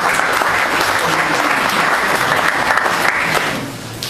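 An audience at a regional athletics federation assembly applauds, a steady, fairly loud wash of many hands clapping that fades slightly at the end.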